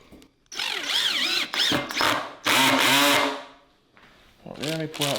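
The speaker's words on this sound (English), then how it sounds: "We're gonna drill them up." A power drill whirs in rising and falling bursts, revving up and down as it drives bolts into a bench, with short pauses between runs.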